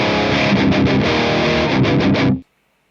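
A loud, close electric guitar through an amp before any pedal is engaged, a gritty sustained chord with rhythmic pulses that stops abruptly after about two and a half seconds.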